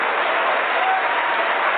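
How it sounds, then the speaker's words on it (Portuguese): Applause from a church congregation, a dense, steady, loud wash of clapping that fills the whole moment without a break. "dê a melhor salva de palmas para a palavra de Deus"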